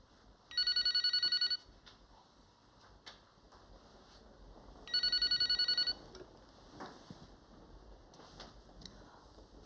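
An outgoing telephone call rings through the line with two buzzing ringback bursts about four seconds apart, each lasting about a second, over a quiet indoor background with faint clicks.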